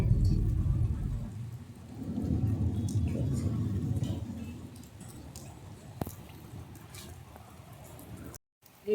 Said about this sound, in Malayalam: ഇതാണ് മലമുകളിൽ മഴ പെയ്യുന്നത്